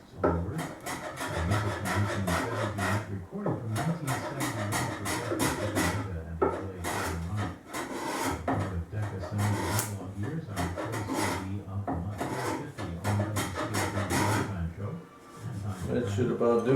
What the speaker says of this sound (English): I'm planing the miter here so that it fits into the